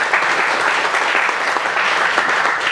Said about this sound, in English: We should give him another round of applause.